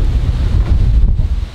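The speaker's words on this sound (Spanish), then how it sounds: "Ráfaga heavy de momento" Heavy wind gusts from Hurricane Fiona in Puerto Rico roar across the microphone in a loud, continuous, low-pitched buffeting rush that surges and lulls, with no voices.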